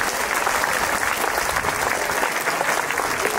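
An audience at a coaching academy event claps for a girl who topped the state and placed third nationally, sustained loud applause from a sizable crowd filling the room.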